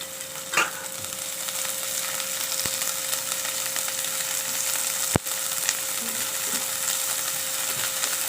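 Chopped garlic sizzles in hot oil in a pan, a steady soft frying hiss with a few faint clinks and scrapes, no talk.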